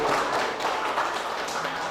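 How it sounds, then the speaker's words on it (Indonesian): Classroom applause during a group activity presentation, a brief burst of many hands clapping together at close range, fairly steady for about two seconds with a faint hum of voices underneath. "tepuk tangan dulu"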